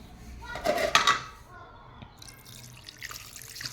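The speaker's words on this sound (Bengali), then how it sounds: "এবার পানি দিয়ে দেবো সামান্য" Water splashes into a pan of bele fish charchari curry in a short burst, followed by quieter drips and low kitchen sounds, with a voice faintly present.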